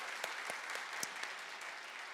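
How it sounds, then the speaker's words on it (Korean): A church congregation applauding to thank building committee elders, a steady wash of many hands clapping at moderate distance with a few sharper individual claps standing out. "박수 한번 하겠습니다."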